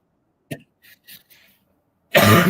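A single sharp cough, then a few faint small throat sounds, followed by a burst of loud rustling noise.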